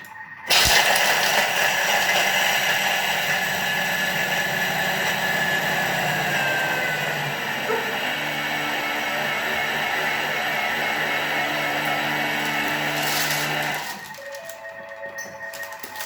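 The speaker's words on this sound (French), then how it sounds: "moi je vais mixer 10 secondes à vitesse 8" A Thermomix running at speed 8 grinds hazelnuts, parmesan and crackers with a loud, steady whirring roar that starts abruptly, holds for about thirteen seconds, then cuts off into quieter background noise.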